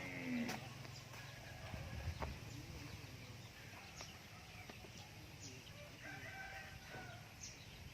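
Domestic chickens cluck in a farmyard during feeding while a rooster crows, all quite faint and distant over a steady background, with no clear talking.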